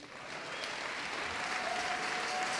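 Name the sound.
applause from the congregation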